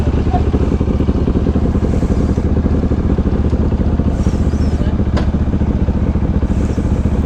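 A 2018 Bajaj Dominar 400 motorcycle idles close by with a steady, throbbing engine note that holds evenly throughout, with a faint click or two over it.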